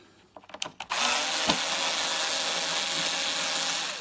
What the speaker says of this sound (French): Se doter d'un tournevis cruciforme pour retirer les vis